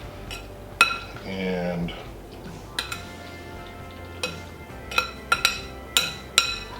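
A spoon taps and scrapes against a bowl while flattening macaroni salad, with a string of sharp clinks and knocks spread across the moment and a voice speaking briefly near the start.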